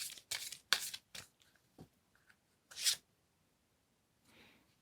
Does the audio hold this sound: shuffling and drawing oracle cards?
yes